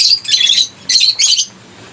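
A pet parrot, an opaline or non-opaline bird, gives bright, shrill chirping calls in two short bursts, close and loud, with brief quiet gaps between them.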